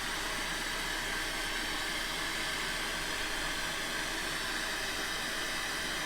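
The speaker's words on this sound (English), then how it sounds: "The cutter grinder's not real loud, you know." A cutter grinder grinds a carbide threading tool made from scrap, a steady, fairly quiet broadband hiss that runs evenly throughout with no talk.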